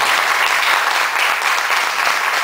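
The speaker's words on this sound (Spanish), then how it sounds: "Les pido un aplauso para ella." Loud, close audience applause at a community training event in Jocotepec, a thick continuous burst of clapping from a crowd with no voices.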